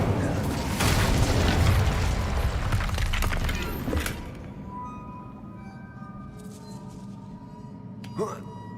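Incendio fire spell cast in the video game Hogwarts Legacy, a loud burst and crackle with glassy, shattering debris for about four seconds, then fading into a quiet, ringing ambience with a final sharp clink near the end.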